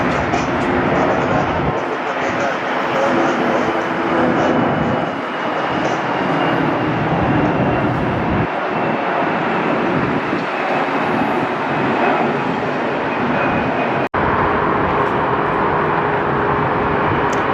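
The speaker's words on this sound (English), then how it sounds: "Delta 822's 22-year-old Airbus going to LAX" A 22-year-old Delta Airbus jet airliner departing Las Vegas, a loud, broad engine roar that holds steady for the whole stretch, with a brief click near the end.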